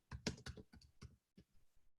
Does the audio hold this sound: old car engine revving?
no